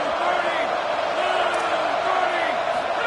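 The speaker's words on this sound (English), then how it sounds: "This crowd is trying to inspire this defense to make a big red zone stop." A college football stadium crowd at an FAU game roaring steadily to rally the defense before a red zone stop, a sustained loud wash of cheering with a commentator talking over it.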